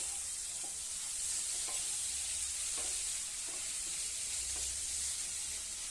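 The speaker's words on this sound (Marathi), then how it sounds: "आता आपण जास्त चांगलं परतून घ्यायचं" Tender coconut vegetable sautéed in a dry pan without water, a loud continuous sizzle and hiss with occasional soft stirring scrapes throughout, no voices.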